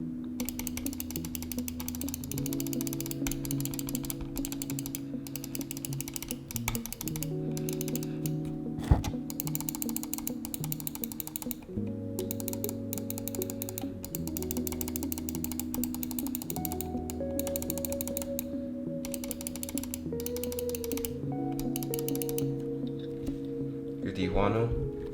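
Gaming mouse with Omron switches being clicked, sharp repeated clicks scattered across the clip at close range over background music, some clicks coming in quick runs.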